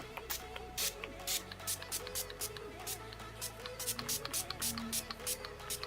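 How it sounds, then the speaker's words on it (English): Quick hissing bursts of makeup setting spray, close and repeated several times in an uneven rhythm over a steady tonal background. "I'm gonna use the Urban Decay All Nighter Makeup Setting Spray. Spray this."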